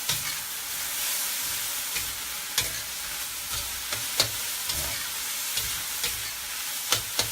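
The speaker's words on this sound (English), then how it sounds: "Give it a quick stir." Pork, garlic chive flowers and fermented black beans sizzling in a pan while being stirred, a constant fry hiss with repeated scraping clicks of the utensil, close by and with no talk.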